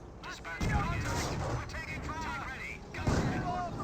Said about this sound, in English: Oh, good mortar hit there.